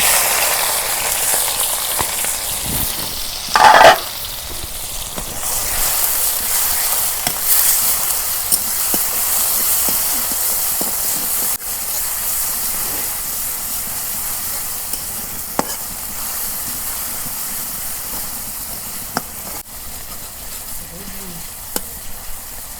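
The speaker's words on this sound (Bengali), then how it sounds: "তেল গরম হয়েছে, এখন আমি পেঁয়াজ কুচি দিয়ে দিই।" Chopped onions frying in hot mustard oil in a wok for beef biryani give a steady, even sizzle throughout, with a brief loud clatter early on and occasional light stirring clicks.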